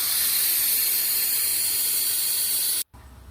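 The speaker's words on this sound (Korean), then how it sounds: "잔류 가스 새는 소리가 한참 나요." Residual LPG hissing out as the tank valve on a Hyundai Staria LPG van is loosened, a loud, steady high-pitched rush of gas running nearly unbroken before cutting off abruptly, followed by quieter background noise.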